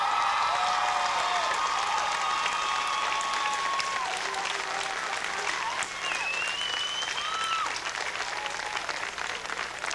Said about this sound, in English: Would the graduates please rise, turn around, and give a great big round of applause?